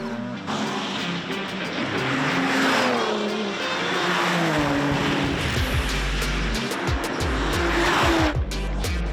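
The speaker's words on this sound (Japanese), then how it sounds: "スピードの違うさまざまなクラスのマシンおよそ130台がひしめき合うようにコースを走ります。" Race cars of mixed classes pack the Nürburgring circuit, engines roaring and rising in pitch as they pass close by, with tire noise and overlapping whines in a continuous loud stream.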